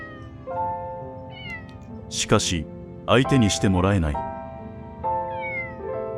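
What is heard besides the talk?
cat meowing at another cat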